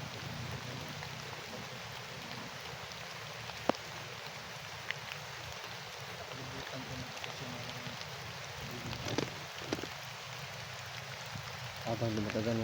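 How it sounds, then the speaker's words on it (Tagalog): Rain grows heavier around a house at night, a steady broadband hiss of falling water with scattered drips and taps. Faint voices talk beneath it. "Habang lumatagal mga kaibigan, lumalakas ang ulan mga kaibigan."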